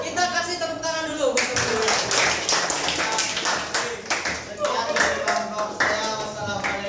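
Students in a classroom clap their hands together in a brisk round that tapers off, with voices talking over the start and again near the end.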